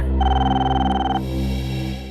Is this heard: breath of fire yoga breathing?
no